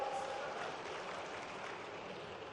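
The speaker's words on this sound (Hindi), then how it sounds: "जोरदार ताली वाली बजा भाई" A large crowd at a government farmers' event claps steadily in a dense, even wash of applause for the state agriculture minister, heard from a distance and with no voice over it.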